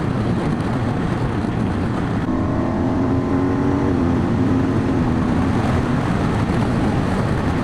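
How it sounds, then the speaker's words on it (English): A car approaches and passes a BMW R1250GS Rallye motorcycle on the road, its engine swelling over constant loud wind roar and the bike's drone. "Car coming now."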